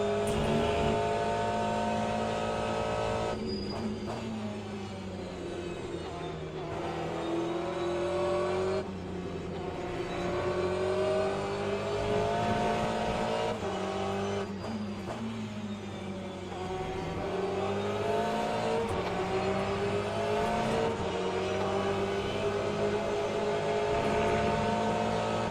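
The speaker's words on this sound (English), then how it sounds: "That sound from the Porsche is so nice when he goes into the power." A Porsche race car at the Spa circuit, its engine rising repeatedly through the gears in long, loud, sustained accelerations with shifts between them.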